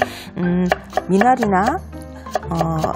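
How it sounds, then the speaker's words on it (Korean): A kitchen knife julienning raw carrot into thin strips on a cutting board while preparing a seasoned minari side dish; quick, crisp chopping taps come in short bursts under a voice explaining. "당근은 조금 가늘게 채 썰어 주시면 좋을 것 같아요"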